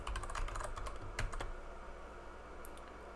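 Quick run of keystrokes on a computer keyboard while a camera password is entered in a setup tool, close and crisp at first, then thinning to a few scattered taps with no talk.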